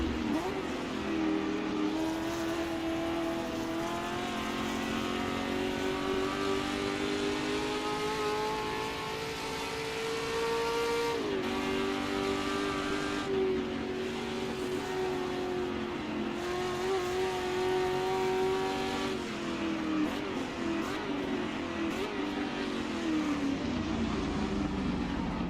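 Ford GT40 race car engines in the video game Assetto Corsa whine and accelerate continuously at Spa, pitch climbing and dropping through gear changes, a sustained high-revving drone with no voices.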